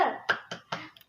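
A short burst of rhythmic classroom clapping for a 'tepuk semangat' cheer: about four sharp, close claps in an uneven beat, each ringing briefly in the room, with no one speaking.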